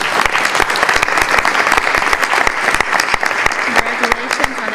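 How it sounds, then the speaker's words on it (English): An audience at a school board meeting applauds the Pepper Box student newspaper, with dense clapping that stays loud and steady throughout. "So I'd like to give them applause for our wonderful Pepper Box"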